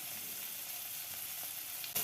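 Ginger-garlic paste fries on a low flame in a steady, close hiss and crackle, with a small stir or clink at the end and no voices.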